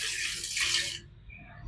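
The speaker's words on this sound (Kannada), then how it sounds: "ಇವತ್ತು ನೀರು ಹಾಕೋಣ ಅಂತ ಅನ್ಕೊಂಡಿದ್ದೀನಿ" Water gushes and splashes for about a second while garden plants are watered, then cuts off, leaving quiet low rumbling background.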